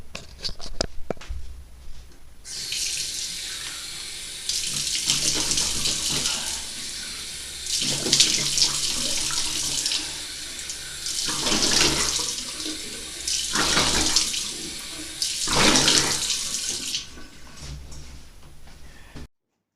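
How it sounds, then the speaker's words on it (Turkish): A bathroom sink tap runs in several bursts while someone washes their face, water splashing close by with short pauses between rinses. "Şimdi uyandım yüzümü falan yıkayacağım."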